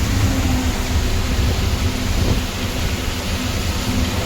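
Steady, heavy rain pours down in Chhattisgarh during a monsoon drive past flooded fields near Arang. It makes a dense, even roar throughout with a low rumble underneath, and no voices are heard.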